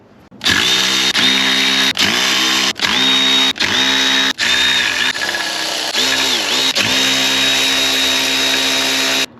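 A power tool whirs loudly in repeated bursts while removing 13mm transmission bolts on a TDI Vanagon, spinning up and stopping several times with short pauses between.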